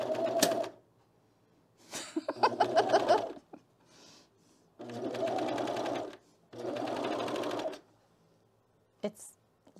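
Several runs of a sewing machine, a Juki, stitching cardigan fabric, rapid close mechanical whirring in bursts with pauses between them and a voice briefly audible.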